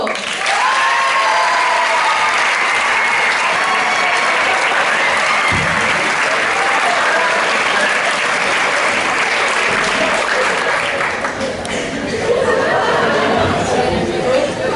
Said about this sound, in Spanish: Doneu-li un fort aplaudiment a Paco Rocco!